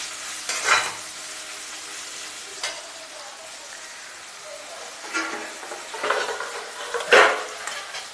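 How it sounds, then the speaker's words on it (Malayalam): Ginger, garlic and green chili sauté in browned onions in a pan, with a soft continuous sizzle broken by a few scraping stirs. "ബ്രൗൺ നിറമായ സവാളയിൽ ഇഞ്ചി, വെളുത്തുള്ളി, പച്ചമുളക് മുതലായവ ഇട്ടൊന്ന് അല്പം ഒന്ന് മൂപ്പിച്ചെടുക്കുക"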